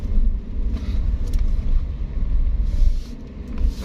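A car rumbles at low speed while parking at Batoh bus terminal, a close, steady engine drone with a little road noise and no clear speech.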